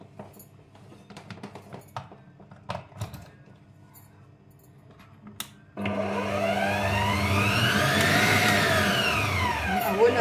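A food processor runs in a home kitchen, first quiet clicks and handling noise, then a sudden, steady loud whirring motor with a rising and falling whine that holds for several seconds.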